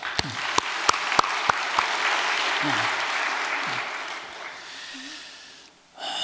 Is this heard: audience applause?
yes